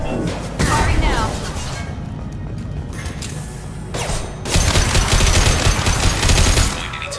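Rapid bursts of gunfire from a space video game, loud and dense, with a louder stretch of sustained firing near the end and a voice talking intermittently underneath.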